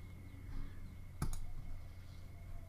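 A computer mouse clicks once, a quick close double-tick in an otherwise quiet room with a faint background hum.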